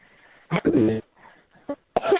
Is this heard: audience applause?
no